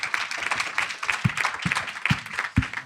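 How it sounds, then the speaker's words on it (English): An audience at a panel discussion on democracy gives a round of applause, scattered clapping at moderate volume with a few sharper, closer claps standing out. "do a round of applause for that"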